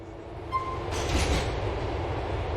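A train in GTA's Liberty City approaches Vespucci Circus Station, a steady low rumble of rolling wheels with a brief high squeal and a faint hissing burst, moderately close.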